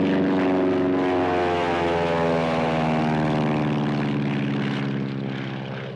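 Propeller engines of a patrol aircraft in 1930s film drone loudly overhead, a steady throbbing roar that fades slowly as the plane passes and moves off.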